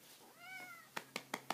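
A house cat gives one soft, rising-and-falling meow close by, followed by four quick, evenly spaced taps or clicks in a quiet room.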